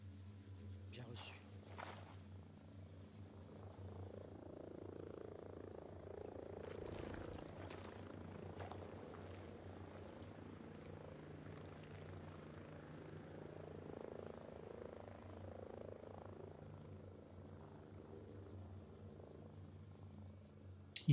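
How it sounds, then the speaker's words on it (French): A helicopter approaches in the tactical shooter Ghost Recon Breakpoint, a low steady rotor drone that holds through the whole stretch and swells slightly, with faint radio-style voices and clicks over it. "Hélicoptère en approche."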